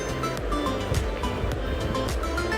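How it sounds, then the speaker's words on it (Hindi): Patale Chhango waterfall in Pokhara, Nepal, running at reduced dry-season flow, gives a steady, full rushing roar of falling water heard from nearby, with no talking. "ये you can see the waterfall."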